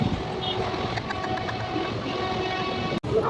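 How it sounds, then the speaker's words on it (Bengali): The Janata passenger train in motion: a continuous rumbling rail drone with faint rhythmic clatter and a brief dropout near the end, heard from inside the carriage. "জনতা ট্রেন চলতে শুরু করেছে"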